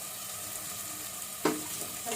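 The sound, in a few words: cut carrots and potatoes added to the pan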